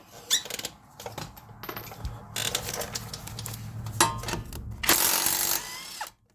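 A power tool on the rear mounting bracket bolts of a 2020 Honda Accord, during a wheel bearing and spindle replacement, fires in short whirring, ratcheting bursts separated by brief pauses, close and fairly loud.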